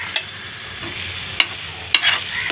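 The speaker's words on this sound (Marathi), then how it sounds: "सगळं तेल सुटेस्तवर फ्राय करून घ्यायचं आहे" Eggplant fries in oil in a pan, giving a steady close sizzle, with a few sharper scrapes and clatters as the pieces are stirred.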